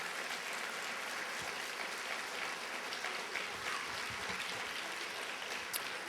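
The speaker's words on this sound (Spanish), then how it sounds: "Denle un aplauso al Señor." Quiet, distant applause from a church congregation during a Spanish-language sermon, a continuous soft patter of many hands that holds steady, with a few sharper claps standing out.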